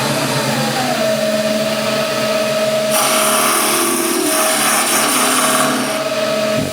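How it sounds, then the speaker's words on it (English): A wood lathe switched on for turning a hollow sphere, its motor spinning up into a steady whine, joined partway through by a brighter, louder high-pitched cutting rasp that fades back out before the end. "lathe on."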